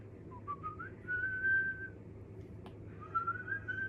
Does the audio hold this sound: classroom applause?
no